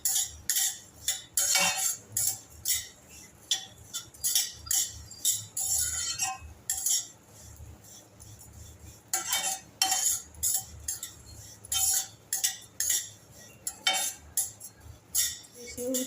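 Shev vermicelli roasting in a pan over medium heat, stirred with a metal spoon that scrapes and clinks against the pan in repeated bursts throughout, close and fairly loud, with no talking.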